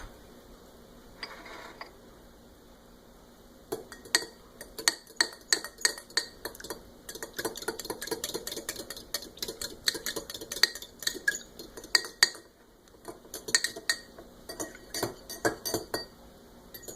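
A spoon stirring a mix of water and oil in a glass, with rapid repeated clinks and scraping taps against the sides, bursts of stirring separated by short pauses, close and clear, no talking.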